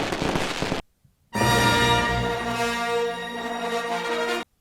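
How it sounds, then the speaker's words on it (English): Fourth of July fireworks going off outside, a loud burst of dense crackling with ringing whistle-like tones that follows a short silence and runs steadily for several seconds. "I guess that's the fire from all the fireworks that are going off right now."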